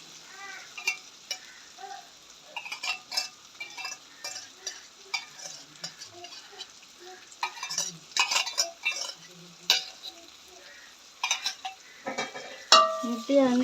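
Egg stir-fried in a pan for tomato egg rice, spatula scrapes and taps against the pan in irregular bursts over a light sizzle, with a few metallic clinks.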